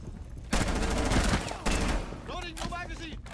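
Heavy rapid gunfire in Rainbow Six Siege, sustained loud bursts of automatic shots with a brief gap, followed by a voice calling out over the end.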